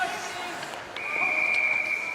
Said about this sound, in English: The play is whistled down.